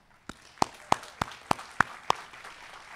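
Sparse, slow claps ring out at a high school graduation ceremony, about seven distinct sharp hand claps spaced evenly over a faint room background, a thin and hesitant applause rather than a full ovation.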